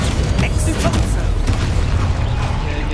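Expulso explosion spell from the Hogwarts Legacy video game bursting in a loud, dense blast of booming game effects under a continuous wash of noise, with a voice talking over it.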